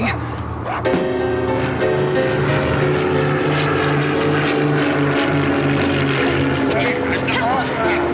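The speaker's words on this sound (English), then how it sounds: "The plane is going to crash." A light airplane's engine droning steadily in flight, a constant loud hum with a faint propeller throb that persists the whole time, and voices speaking over it.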